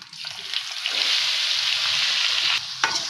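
A loud, continuous sizzle of ground masala and whole spices with fennel seeds frying in hot oil for a lazy chicken dish, stirred up close and heard alone.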